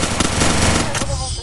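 Rapid automatic gunfire rattles continuously in a video game custom match, loud and dense before cutting off near the end, with a voice faintly under it.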